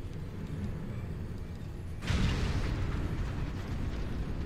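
A loud explosion erupts partway through as a ship's main reactor is struck in a video game, a sudden broadband blast that rolls into sustained rumbling over a steady low engine drone.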